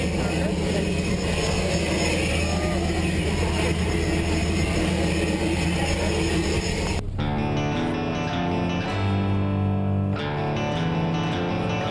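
Airplane engine drone before a skydive over Santa Barbara, a loud continuous roar that shifts partway through to a steadier tonal hum with stepped pitch changes.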